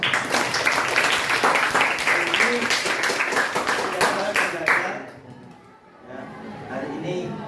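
A classroom of students claps together, a close, lively burst with audible individual claps and some chatter that drops off after about five seconds, followed by quieter talk.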